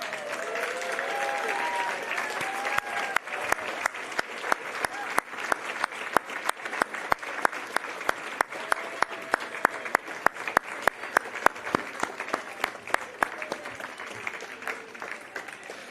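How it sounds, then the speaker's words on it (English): Sustained audience applause fills a Braille Challenge award ceremony, a dense wash of many hands clapping steadily from start to finish, with a few sharper nearby claps standing out. "parents, give another round of applause"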